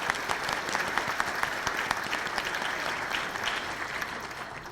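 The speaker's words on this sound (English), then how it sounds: "let's give them a round of applause" An audience at a monthly club program claps steadily, a moderately loud, even spread of many hands with individual claps standing out, continuing for the whole stretch.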